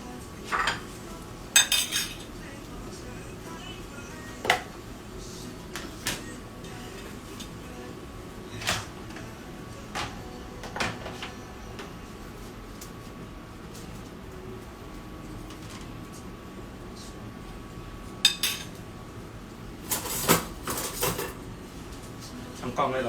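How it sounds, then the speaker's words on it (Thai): A pan is scrubbed clean of fried-rice residue, with scattered metallic clinks and clatters of utensils against cookware spread irregularly over a quiet background, a few louder knocks near the end. "ไม่ผมแค่ล้างคราบของเมื่อกี้ทุกคนล้างคราบของ ของที่ผัดข้าวเมื่อกี้"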